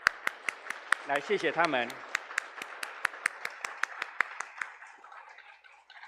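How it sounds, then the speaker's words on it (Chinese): A church congregation applauds at a Sunday worship service, with rhythmic, evenly spaced claps running throughout at moderate volume while a voice speaks briefly over them. "我们再一次用掌声"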